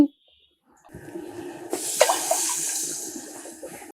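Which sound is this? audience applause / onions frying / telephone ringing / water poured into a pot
water poured into a pot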